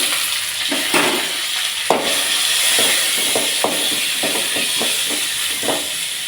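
Mustard seeds, dried red chillies and curry leaves sizzle in hot oil for a South Indian buttermilk curry, a steady bright hiss with scattered crackles and pops throughout.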